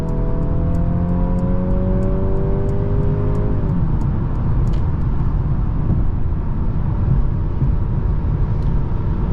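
A 2023 Mercedes C300 sedan accelerates from 56 mph, rising engine tones climbing and then shifting, under constant loud road and wind rumble heard from inside the cabin, with a few faint clicks.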